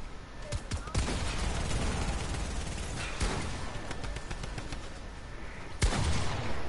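Gunfire in a build-battle shooter video game, with repeated bursts of rapid shots and a few sharper loud blasts over a continuous dense noisy bed of game sound.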